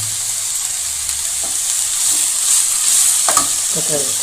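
Potato masala for a puri side dish frying in a pan, with a steady loud sizzle and a few soft scraping stirs close up.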